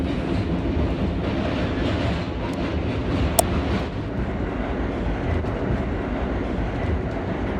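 A New York subway F train made of R32 cars runs along the line, heard from aboard as a loud, steady roar and rumble of wheels on track, with faint rattles and one sharp metallic squeal partway through.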